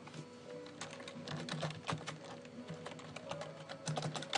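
Fingers tap a computer keyboard in quick irregular bursts with short pauses between, close and fairly quiet, with no speech.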